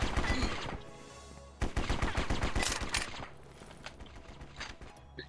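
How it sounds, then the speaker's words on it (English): An assault machine gun firing in the War Brokers video game, on the Dead End City map: two loud bursts of rapid automatic fire, the second longer, then quieter scattered shots and footsteps. "Hey, got my assault machine gun back."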